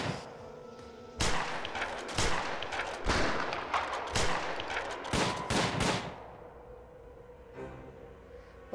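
Bursts of gunfire ring out in the Prison Architect prison-management game: a series of sharp, loud shots and volleys crowd the middle seconds, then give way to a quieter tail. No one speaks.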